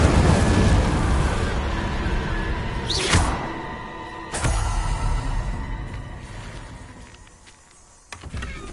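A fire spell cast in Hogwarts Legacy: a sharp, loud whooshing burst near the middle, then a second flare, set against a dense rumbling game soundscape.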